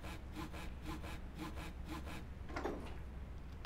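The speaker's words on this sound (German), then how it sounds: "Mit der Säge gehen wir zur Mitte." Rhythmic back-and-forth sawing strokes from a saw in a puzzle adventure video game, about six steady rasping passes followed by a brief scrape, heard alone with no talking.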